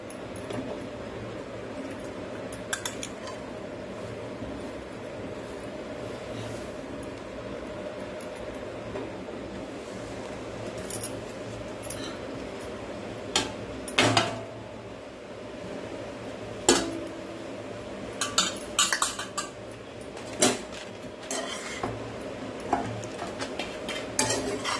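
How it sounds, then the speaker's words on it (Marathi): Dry coconut roasts in a pan for sweet dinkache modak. A soft, steady rustle runs throughout, with occasional sharper spoon-on-pan clinks and scrapes from stirring, close and fairly quiet, with no talk. "सुकं खोबरं आहे ना ते आपण भाजून घेणार आहोत"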